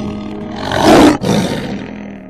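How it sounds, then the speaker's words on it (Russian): A lion lets out a single deep roar that swells to a loud peak, then breaks and trails off into a rumbling growl, with no other sounds. "лев,"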